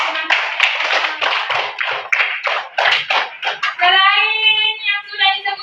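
Students in a classroom clap in a quick rhythmic pattern of sharp, distinct claps, then break into a chanted, sung-sounding phrase together.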